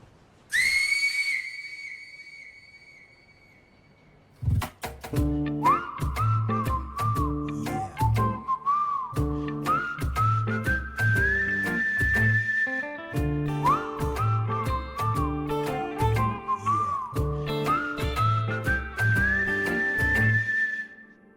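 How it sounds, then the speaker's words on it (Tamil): A referee's whistle signals half time in a film scene, heard as a piercing opening blast followed by a long run of loud, rhythmic whistle blasts with a low pulsing beat underneath. "அப்போ நான் ஹாஃப் டைம்க்கான விசில் அடி"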